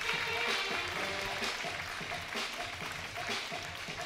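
An audience at a show-jumping final applauds steadily for a clear round, a sustained wash of clapping with an announcer's voice speaking over it.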